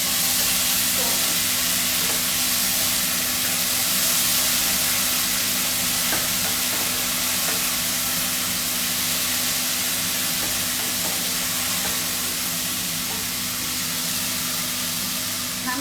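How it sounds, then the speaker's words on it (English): Tandoori chicken sizzling in a pan as yogurt goes in, a loud, sustained hissing fry with steam and occasional stirring clinks, steady throughout. "All I'm going to do is dunk this yogurt in here."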